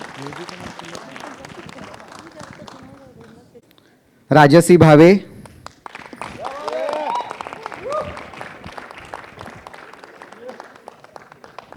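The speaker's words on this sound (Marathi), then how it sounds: "एकदा जोरदार टाळ्या त्यांच्यासाठी." Audience applause bursts out loudly for about a second at a staged Marathi event, abrupt and dense, between stretches of talking and crowd murmur.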